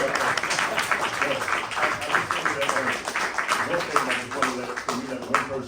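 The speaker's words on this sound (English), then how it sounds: "So give him a round of applause" An audience applauds at a screening and panel discussion, a steady dense wash of clapping that carries on without a break for several seconds, with voices mixed in underneath.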